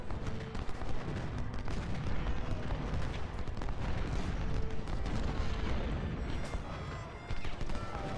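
Henry repeater rifles fire in Ultimate General: Civil War at the Battle of Port Republic, a continuous dense crackle of overlapping shots and volleys with booming rumbles, loud and unbroken throughout.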